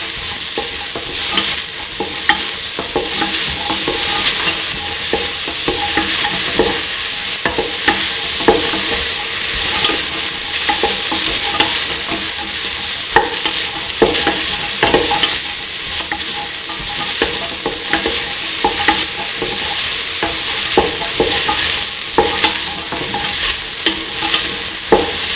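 A spiced paste sautéing in a pan for a chickpea, snake gourd and coconut milk rice dish, with a steady, loud sizzle and frequent scraping stir strokes running throughout, no voices.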